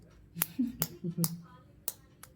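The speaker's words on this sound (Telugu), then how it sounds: "క్లాప్స్ కొట్టు" Children clap their hands at a family gathering, giving about five quick, light claps in an uneven rhythm, fairly faint, with soft voices around.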